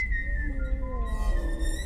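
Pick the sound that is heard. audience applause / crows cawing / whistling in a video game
whistling in a video game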